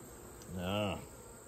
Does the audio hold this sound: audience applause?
no